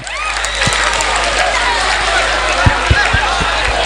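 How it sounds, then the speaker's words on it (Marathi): A crowd at a fort temple gathering in Beed claps to welcome Manoj Jarange, with dense sustained applause, scattered shouts and crowd voices throughout. "आपण सगळ्यांनी मनोज दादांचं टाळ्या बाजून स्वागत करायचं आहे"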